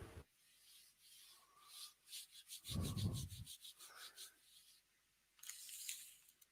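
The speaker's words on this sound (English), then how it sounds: "I'm just getting them with the Dremel." A Dremel rotary tool sands the edges of a wooden piece in close, quiet rasping passes, with rhythmic rubbing strokes and a heavier grinding burst in the middle.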